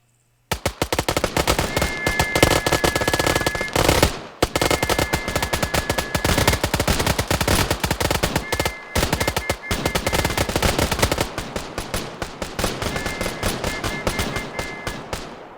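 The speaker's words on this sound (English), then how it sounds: "Fire your magazine unless you have more than 30 rounds." Massed rifle fire from infantry emptying full magazines in a military video game, a loud continuous barrage of overlapping shots with brief lulls, dense and rapid throughout with no talking.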